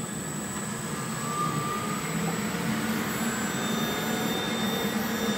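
A Motoplat CV-307A tester starts its test run, producing a steady, continuous mechanical whir and hum at an even level throughout.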